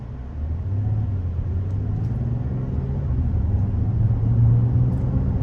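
A 2024 Mazda CX-90 Turbo Premium Plus pulls away from a stop with a steady low engine rumble and drone heard from inside the cabin, rising slightly toward the end.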